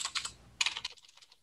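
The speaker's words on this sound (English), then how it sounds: "this is why I limit the amount of typing I do during this" Quick bursts of typing on a computer keyboard, several rapid close key clicks in two clusters separated by a short pause, then a few lighter trailing taps.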